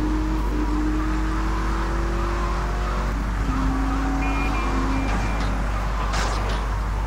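A car engine drones steadily through a drive in GTA Vice City Remastered, its pitch climbing and shifting with gear changes under a constant rumble, with no talk over it.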